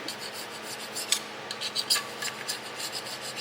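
Gritty scraping and rasping against glass in short repeated strokes during repair work on a BMW 520d F10, fairly quiet and close, with no talking.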